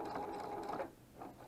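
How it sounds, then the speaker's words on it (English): A foot-pedal-driven sewing machine stitches in a steady, close mechanical whir, pauses briefly, then starts running again. "And I'm just going to start sewing."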